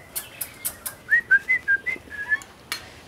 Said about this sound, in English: Arrow the Currawong is full of energy and ready to receive visitors.